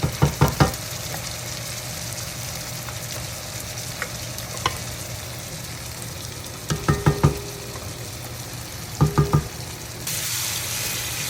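Thick jollof sauce paste sizzles in a pot as it cooks, with a steady frying hiss broken by a few clusters of sharp stirring knocks against the pot.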